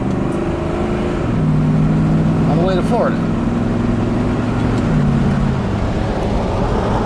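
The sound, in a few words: old V8 car driving and shifting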